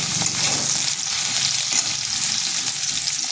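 Spice paste of ground green chilli, ginger and cumin fries in a pan for a Bengali fish curry while being stirred, giving a steady, close, continuous sizzle with no voices.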